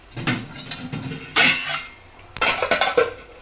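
A metal lid being set onto a cooking pot of chicken buttermilk curry, several close clanks and clinks of metal against metal in short bursts, with no talking.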